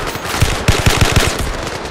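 Gun turret fire in the VR shooter Zero Caliber, a loud rapid burst of about seven heavy automatic shots in quick rhythm over a dense roaring game background.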